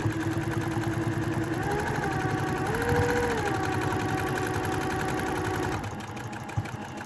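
Sewing machine stitching an X across a fabric potholder, a steady close motor hum and needle chatter that stops near the end.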